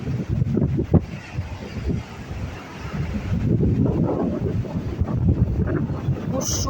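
Stormy sea at Yalta, with rough waves rolling and crashing against a steady roar of strong wind buffeting the microphone. The noise is loud and continuous and swells in surges.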